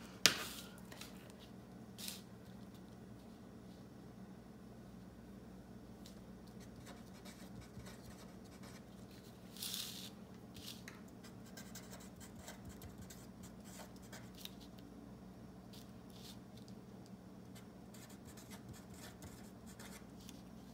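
A pen writes in a Happy Planner, soft, faint scratching strokes that run on steadily, close by, with a few light taps and rustles of paper between them.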